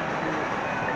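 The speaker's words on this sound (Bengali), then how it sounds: "আর এই যে পিছনে ট্রেন দেখা যাচ্ছে এটা হলো চট্টগ্রাম এক্সপ্রেস" A Chattogram Express passenger train rumbles at a station, its steady, dense mechanical roar filling the full second with no pauses or distinct clatter.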